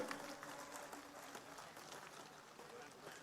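Crowd applause at a Thakor community mass rally in Gandhinagar, India: faint, steady, dense clapping that carries on without a break, with a distant murmur of voices.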